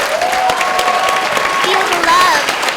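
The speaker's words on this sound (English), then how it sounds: "please give him a round of applause." A convention crowd at a fan panel applauds and cheers, dense clapping with whoops and a few raised voices riding over it, loud and close, sustained across the whole stretch.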